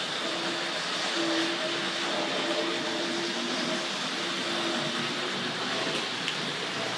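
Tri-ang model railway trains running on a layout, including a Battle of Britain Class locomotive, a steady close whirring and rolling hum with faint clicks, continuous and even throughout.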